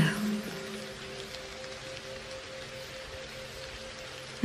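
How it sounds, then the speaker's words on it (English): Steady rain falls in a soft, even hiss with faint low tones running beneath it, a calm and continuous wash with no voices. "Now just enjoy the sound of the rain"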